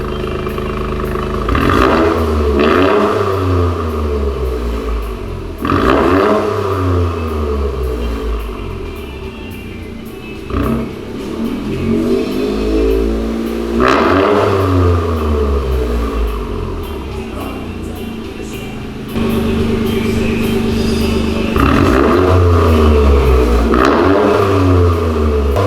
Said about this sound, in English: let's hear the new exhaust.